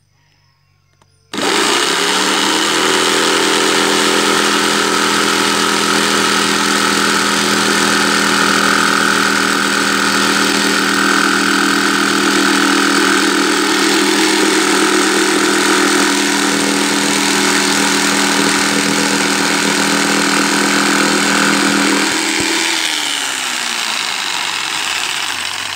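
A homemade scroll saw starts abruptly and runs at a loud, steady motorized drone with a rapid reciprocating buzz while cutting a rounded corner, then winds down near the end.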